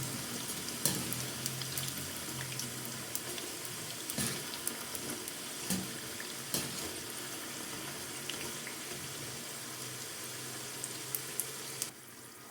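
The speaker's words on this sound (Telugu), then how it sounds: "సో ఇలా లో ఫ్లేమ్లో పెట్టుకుని ఫ్రై చేసుకోవాలి." Maida chips frying in oil over a low flame, a quiet even bubbling hiss with occasional sharp taps and clicks, fading softer at the end.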